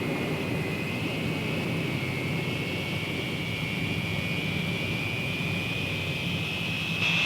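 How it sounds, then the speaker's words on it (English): A loud, steady B-47 jet bomber engine roar with a high whine holding constant, broadband rumble throughout, as the aircraft builds power for its takeoff roll; no voices. "all you need is a final check and power for the takeoff roll"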